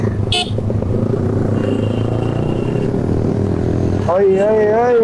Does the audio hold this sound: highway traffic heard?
yes